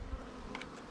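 Honey bees buzz around a hive after an artificial swarm, a close, steady hum lasting under a second.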